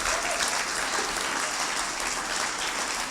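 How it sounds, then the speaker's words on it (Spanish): Church congregation applauding, a dense, loud wash of many clapping hands filling the room evenly from start to finish. "Vamos a darles un aplauso a ellos, ¿no?"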